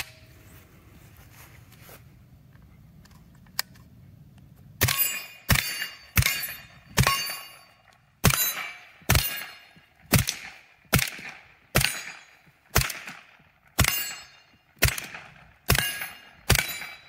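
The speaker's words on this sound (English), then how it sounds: "That steel plate is loud" Rounds from a CZ Scorpion SBR strike a steel plate target, giving about a dozen loud, sharp metallic rings in a quick irregular string after a few seconds of quiet background.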